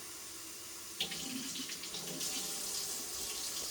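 Tap water runs steadily into a container being filled for a turkey brine, a continuous close splashing hiss with a slight surge near the start and no talking.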